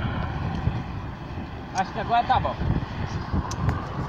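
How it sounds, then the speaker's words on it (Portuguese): Strong outdoor wind buffets the microphone with a constant low rumble beside a jaboticaba tree being pruned, while someone speaks over it. "Tá zoeira demais de vento aqui"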